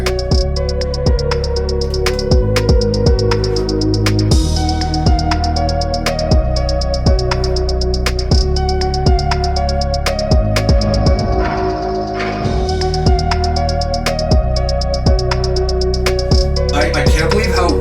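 Synth beat played through an Empress Reverb stereo pedal, a continuous rhythmic groove of regular percussive hits and held synth notes with a lush reverb tail, loud and steady throughout with no talking.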